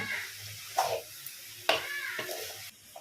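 Red amaranth greens fry in a pan with a soft sizzle as a spatula stirs them, giving a few distinct scraping strokes over the low crackle.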